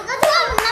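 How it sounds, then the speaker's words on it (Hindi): Two sharp, separate claps ring out close by at a children's comedy show, spaced about a third of a second apart over quiet background hum. "चलो उनके लिए तालियां हो जाए।"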